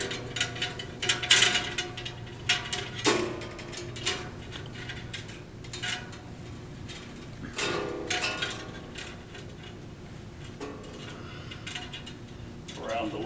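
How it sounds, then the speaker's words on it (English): A bandsaw blade being mounted onto the wheels, with scattered close metallic clicks, clanks and ratcheting rattles coming in irregular bursts and pauses. "So now I'm going to put the blade on."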